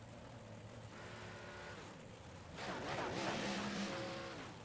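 Big block modified dirt race cars roar around the Weedsport track, a steady distant engine drone that swells louder as cars sweep nearer, with shifting pitch from several machines at once.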